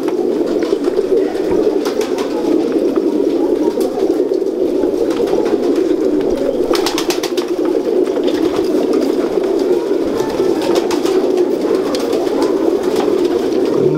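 Salare golden breeder pigeons coo in a low, continuous rolling murmur, several birds layered close together, with scattered wing flutters and brief clicks breaking through now and then, no voices.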